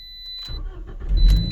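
A Toyota or Scion car engine cranks and turns over, rising into a low rumble that grows louder, with a steady high electronic tone running alongside.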